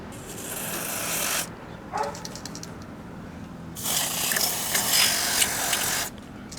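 WD40 contact cleaner is sprayed onto the contacts of a SilverCrest SMW 800 C3 microwave in two long hissing bursts with a short spurt between, close up, ending with another brief spray.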